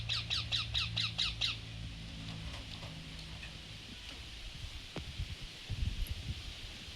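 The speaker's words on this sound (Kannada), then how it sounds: "ನೋಡೋಕ್ಕೆ ಚಂದ ನೋಡ್ರಿ ಗಿಳಿ ಮರಿ ಅಂತ ನೋಡ್ರಿ" A young parrot chick squawks in a rapid burst of harsh, repeated calls from a bush, then quieter rustling of leaves follows as it feeds, outdoors with no talking.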